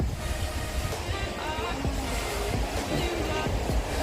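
Steady wash of sea waves with wind noise, a constant rushing surf close by, with faint voices in the background.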